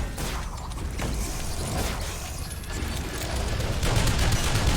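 Turrets in Shadow Complex Remastered fire in dense, continuous rapid bursts, a loud rattling barrage with mechanical clatter that swells slightly toward the end.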